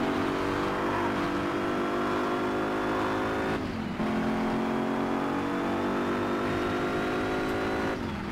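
A racing car engine in Gear.Club Unlimited 2 on Nintendo Switch drones steadily at high revs, with two brief drops like gear shifts. It is moderately loud and continuous, with no talking.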